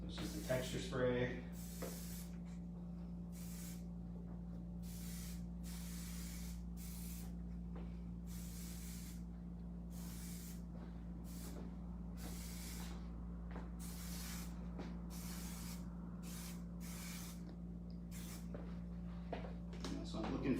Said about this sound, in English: Texture spray.